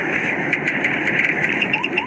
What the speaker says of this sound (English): The roar of his engine heard on his body camera.